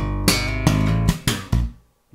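Slap bass lick, with four or five punchy slapped and popped notes in a quick uneven rhythm, close and bright, ending abruptly in a short silence.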